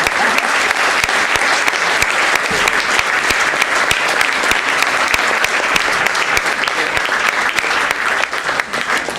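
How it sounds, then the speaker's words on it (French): Loud, dense applause from an audience at the results announcement of a music talent contest final in Saint-Étienne, steady and sustained throughout with no voices standing out. "je pense que vous pouvez vous applaudir."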